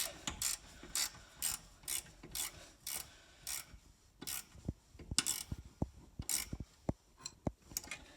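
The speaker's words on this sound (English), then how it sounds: "we're finishing tightening these bolts down that hold the slider rails to these new bases" A ratchet wrench clicks in quick bursts while tightening bolts that hold seat slider rails to new swivel-seat bases in a van, with close, sharp ratcheting strokes separated by brief pauses.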